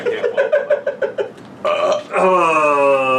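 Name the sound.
fake burp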